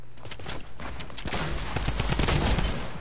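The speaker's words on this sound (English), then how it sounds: "That's how overpowered the drum gun is." Rapid, sustained automatic fire from a drum gun in a video game, loud and continuous bursts filling the whole stretch.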